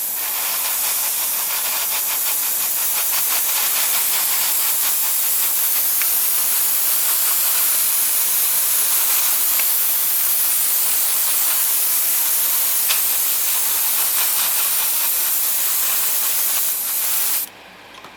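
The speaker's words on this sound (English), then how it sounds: "I'm going to be spraying aircraft gray" An airbrush sprays Mr. Color 73 aircraft gray paint onto the interior of a 1:72 Hasegawa MiG-29 Fulcrum model kit in a steady, close, unbroken hiss that cuts off abruptly near the end.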